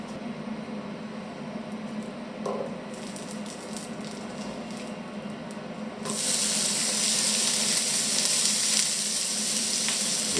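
Onion and garlic frying in two spoonfuls of sunflower oil over medium heat in a pan, a steady close sizzle that jumps to a louder, fuller crackle partway through.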